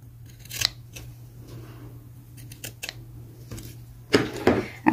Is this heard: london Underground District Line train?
no